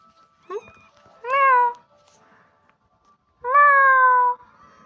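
Two distinct, drawn-out cat meows ring out close by, separated by a pause, with a short chirpy sound just before the first.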